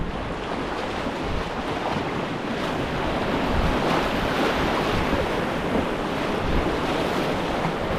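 River rapids rush and splash steadily around a paddled raft, a continuous loud wash of water with wind buffeting the microphone throughout.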